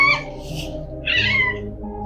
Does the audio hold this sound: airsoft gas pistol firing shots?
no